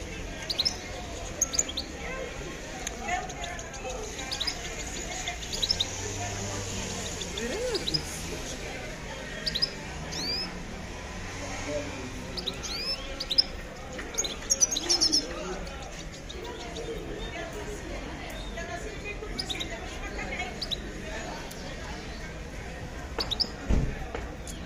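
Songbirds, notably goldfinches, at an outdoor bird market chirp and tweet in scattered bursts, with cooing pigeons mixed in, all moderately faint under a busy crowd murmur and people talking nearby.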